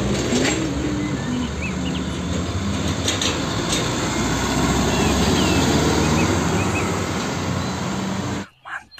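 A tanker truck drives past with a heavy, sustained engine rumble and rushing road noise, loud and close, ending abruptly with a brief bit of speech.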